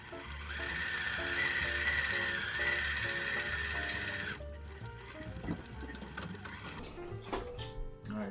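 A sewing machine stitching the hem of a cloth face mask, a steady fast whirring chatter that runs for about four seconds and then stops, followed by softer handling and mechanical clicks nearby.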